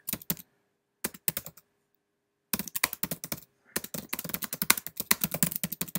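Bursts of keystrokes on a computer keyboard while a support ticket is typed, with clicks clustered in quick runs separated by short silent pauses.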